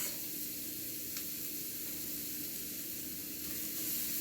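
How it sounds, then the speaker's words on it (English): Onions sizzle in hot olive oil in a pan, a steady, even hiss of frying that fills the whole stretch without pause. "so my olive oil is ready. I'm gonna add my onions."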